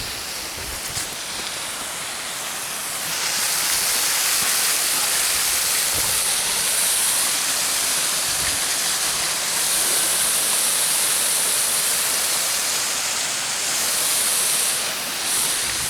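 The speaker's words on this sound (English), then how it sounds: "So yeah, that's the waterfall." A waterfall in the Scottish countryside near Dairsie and Kemback roars as a steady, loud, broadband rush, swelling after the first few seconds and holding constant and close throughout.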